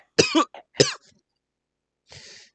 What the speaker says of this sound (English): She's like coughing.